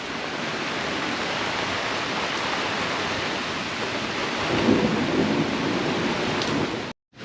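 Steady rain hisses loudly and evenly outdoors, with a soft rumble that swells slightly midway and an abrupt cutoff near the end.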